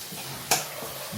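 Onions and curry leaves cook in a pan for tomato chutney, giving a soft low sizzle with one sharp clink of a utensil against the pan midway and light stirring scrapes, no voices.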